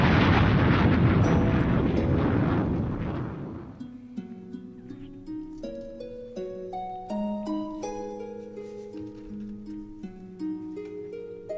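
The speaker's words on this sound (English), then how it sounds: "we're going to drop a bomb and then we're going to get into the beat" A radio DJ's bomb drop explosion effect on an Express FM broadcast, a loud booming blast that rumbles and fades over several seconds before a melodic beat with plucked tones takes over.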